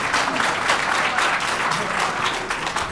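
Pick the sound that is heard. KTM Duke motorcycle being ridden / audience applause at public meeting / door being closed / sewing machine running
audience applause at public meeting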